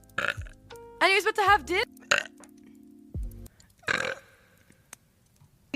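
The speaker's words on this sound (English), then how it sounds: "A burp." A long, loud, close burp from a vtuber rolls out in a wavering, voiced croak, framed by chatty speech before and after.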